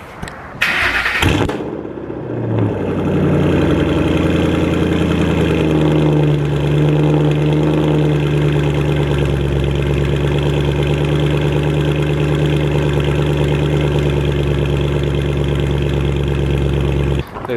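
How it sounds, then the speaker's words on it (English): Car engine cold-starting: a brief cranking burst, then the engine catches and settles into a loud, steady, rough idle that continues up close to the end. "I'm gonna give you a little cold start."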